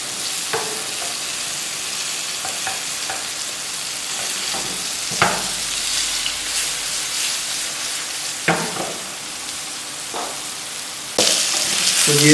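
Chicken pieces frying and browning in a frying pan, a close, continuous sizzle with occasional sharp spatters and stirring clatters, louder toward the end.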